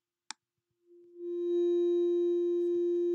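A single soft click, then a steady pure sine tone from a Max patch oscillator fading in and holding at an even level, clean and sustained with a faint buzz of harmonics.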